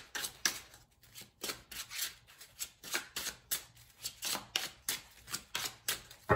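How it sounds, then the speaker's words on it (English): Repeated brisk tarot card shuffling, crisp papery riffles and slaps in a steady rhythm, close up with no voices. "We'll get some more shuffles in here."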